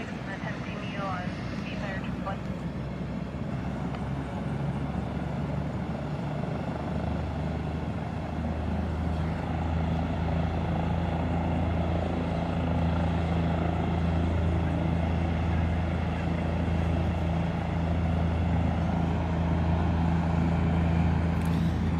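A Care Flight medical helicopter spools up and lifts off at a roadside motorcycle accident scene on a highway, its steady low rotor thrum and turbine whine building and growing louder.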